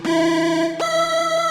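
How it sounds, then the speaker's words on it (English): Singing saw synth preset from the MusicCore sample pack, used in a dance track: two sustained, gliding tonal notes, the second entering sharply partway through, loud and alone with no talk. "which is the singing saw preset from the MusicCore sample pack"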